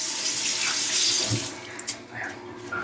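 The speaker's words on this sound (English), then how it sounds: "I'm gonna make a little hands wash. Try to get some of this liquid off." Hands being washed under a running kitchen tap after chopping vegetables, a steady close hiss of flowing water that eases off toward the end with a few small splashes and clinks.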